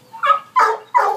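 Brown and white basset hound at an animal shelter gives three quick, loud barks in a row, close by, each short and evenly spaced with no voices.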